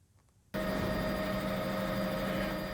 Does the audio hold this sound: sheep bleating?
no